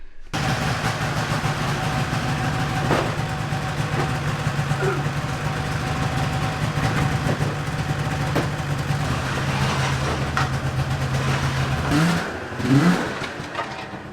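A snowmobile engine runs steadily after fuel pump, pulse line and idle repairs with carburetors synced, a continuous droning idle close by in minus 30 cold, with a brief rise in revs near the end.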